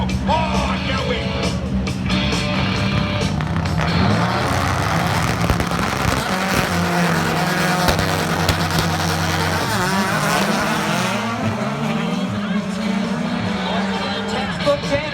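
Red Bull Global Rallycross semifinal race cars starting a race at a Dallas, Texas event, a dense, steady roar of many engines with rising and falling revs running continuously and loud throughout, with crowd noise mixed in.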